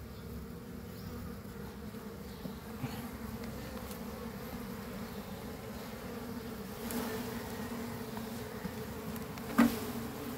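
Agitated bees swarm around a hive box in a constant close buzzing drone, with a few light taps and a brief sharp knock near the end, no talking.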